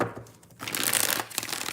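Tarot cards being shuffled by hand, a crisp papery riffle that swells after a brief lull and runs steadily to the end, close and fairly loud with no voices.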